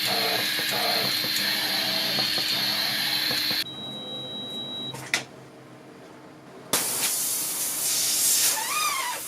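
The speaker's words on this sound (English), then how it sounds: "So I just had an airline pop on the pick and place machine" A burst airline on an aging pick and place machine in a backyard shed factory gives off a steady loud hiss with a high whistle, cuts out briefly, then resumes strongly, with a few clicks and knocks along the way.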